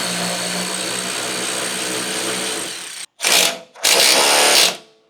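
A power tool runs tightening skid plate bolts on a second-generation Toyota Sequoia, with a long steady whir followed by two short, loud bursts close by.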